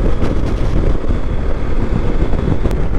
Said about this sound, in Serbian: Čisto da vidite koliko su jaki udari vetra